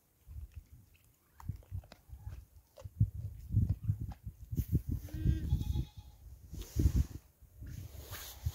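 Sheep bleat repeatedly among a flock of livestock, the calls rising in the middle and toward the end, with soft chewing and shuffling noises between them.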